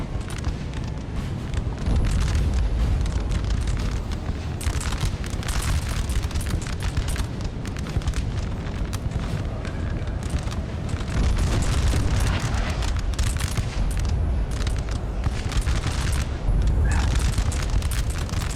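Artillery and battle explosions from the Napoleon Total War video game rumble continuously with rapid bursts and booms throughout, loud and dense, a mass of distant and nearer blasts without pause.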